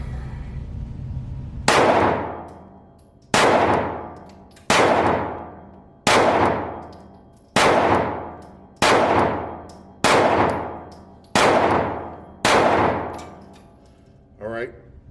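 A Rost Martin RC1M pistol fires nine evenly spaced shots, each a sharp loud crack with a ringing tail from steel targets, followed by a brief voice at the end.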